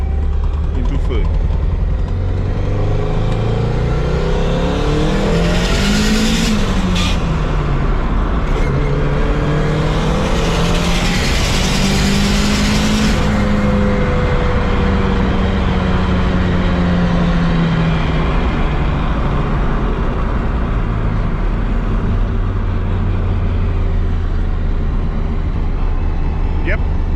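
A car engine pulls hard on a dyno from second gear into third, a loud rising drone that climbs in pitch, drops at the shift and climbs again, with a brief roar of higher-pitched noise midway.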